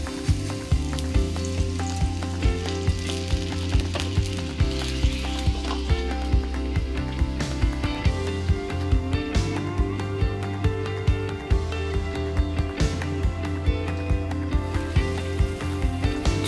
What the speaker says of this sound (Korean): 기름을 예열한 팬에 고기를 넣고 바로 물을 넣어 스팀으로 쪘다.